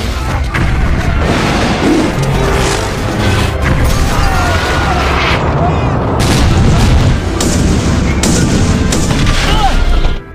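Continuous heavy booms and blasts roll one after another, dense and loud, like explosions amid a barrage of fire with no break, as World War II aircraft explode one after another.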